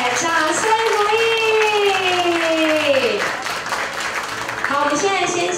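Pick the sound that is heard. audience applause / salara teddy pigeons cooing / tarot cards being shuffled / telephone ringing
audience applause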